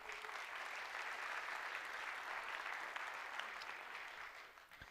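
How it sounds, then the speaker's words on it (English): Soft, continuous applause from an audience at a chamber of commerce State of the Community event in Petoskey, greeting city and county officials, holding steady before tapering off at the end. "please give them a round of applause"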